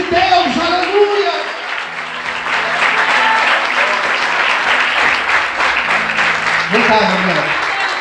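A church congregation applauds loudly and continuously in a dense wash of clapping, while voices speak over it at the start and near the end.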